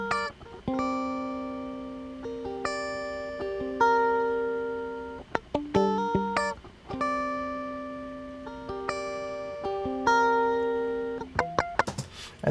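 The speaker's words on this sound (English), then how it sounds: "I came up with this guitar part first that I ended up pitching" A dry, unprocessed guitar part from a beat, clean plucked notes in a repeating melodic phrase with sustained tones and light percussive hits, fairly quiet and alone with no voices.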